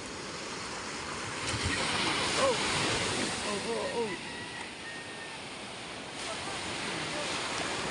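Big sea waves roll onto the shore where boats have been hauled up, a steady, loud wash of surf with wind buffeting the microphone and a person briefly exclaiming over it.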